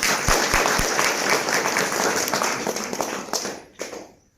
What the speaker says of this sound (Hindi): 5 सेवाधारियों के लिए आप तालियां बजाइए।